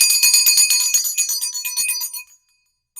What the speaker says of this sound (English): let me just ring my mom's bell